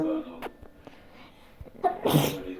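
A sudden sneeze bursts out near the end amid a quiet, busy room with scattered clicks and faint voices.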